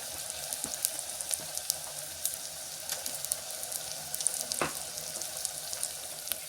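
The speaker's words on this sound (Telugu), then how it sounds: "బాగా అల్లం వెల్లుల్లి పేస్టు ఎర్రగడ్డలు అన్నీ బాగా వేగినాయి" Ginger garlic paste and onions fry in a pan with a steady, close sizzle and scattered sharp pops and crackles throughout, moderately loud and uninterrupted by speech.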